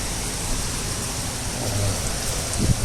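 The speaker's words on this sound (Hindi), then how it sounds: "बारिश कम होती नज़र नहीं आ रही है।" Steady, dense rainfall from Cyclone Tauktae in Mumbai hisses across the whole clip, a continuous broadband wash with a faint low rumble near the end.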